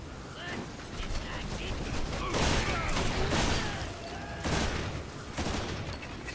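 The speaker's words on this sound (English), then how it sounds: "this guy with the mech on the other car keeps shooting me" Sustained gunfire in the video game Lost Planet 2, fought on a railroad level with a mech firing from another train car: dense, continuous bursts of shots with louder surges, heavy and close throughout.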